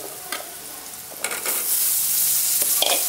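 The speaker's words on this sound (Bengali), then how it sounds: "এখন আমি আলুগুলো দিয়ে দেব।" Potatoes drop into a hot pan and start frying. A few scrapes and clatters give way to a loud, continuous sizzle that swells and holds close by.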